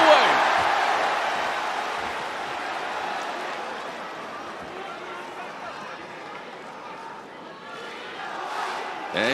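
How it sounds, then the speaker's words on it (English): Crowd at an MMA fight at Ariake Coliseum rallying in unison behind a native fighter: a loud, sustained roar that swells at the start, eases off, then rises again at the end. "you hear the crowd immediately in unison rally behind their native star"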